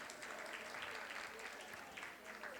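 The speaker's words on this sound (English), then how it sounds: "Let's give her another round of applause, you guys." Audience at an educators' forum gives a speaker a round of applause, a dense, fairly faint wash of clapping that holds steady for a couple of seconds.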